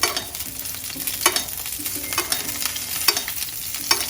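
Salmon fillet frying in hot oil while being basted, a loud continuous sizzle and crackle with repeated spoon scrapes and splashes at a slow, irregular rhythm, close up and without speech.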